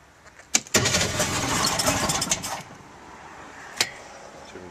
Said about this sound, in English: Of course, recoil. And let's see how she starts.